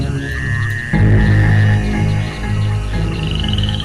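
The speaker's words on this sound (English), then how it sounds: "The sound of frogs fills the night." Frogs croak in a dense nighttime chorus, steady and layered, with a rising chirp-like call standing out near the middle and another toward the end.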